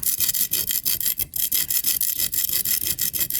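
Steady back-and-forth rasping as an object is filed against rough cement to grind it down, a rhythmic scraping stroke roughly every quarter second, close and loud, no voices.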